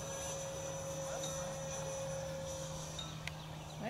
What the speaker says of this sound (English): That's a good flying little plane